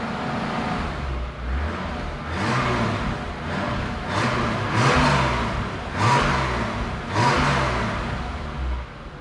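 A 1987 BMW 325 E30 engine idles and is revved repeatedly, each blip of the throttle swelling then falling back, heard close and loud with a steady rumbling idle in between.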